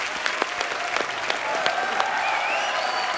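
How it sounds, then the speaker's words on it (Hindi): Studio audience on a Hindi comedy talk show claps loudly and steadily, a dense sustained patter of many hands with a few sharper individual claps standing out. "जोरदार तालियां इनके लिए"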